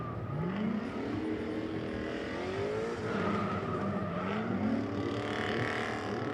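A drift race car in pro series qualifying screams past at high revs, engine pitch climbing and dipping through gear changes while tires squeal and skid under hard sliding, loud and continuous with distant crowd ambience.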